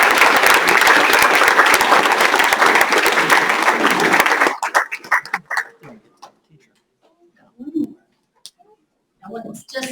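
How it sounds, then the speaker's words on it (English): Loud clapping from a board meeting audience for about four seconds, then it breaks off into scattered faint knocks and a few quiet voices. "So let's give a big round of applause for"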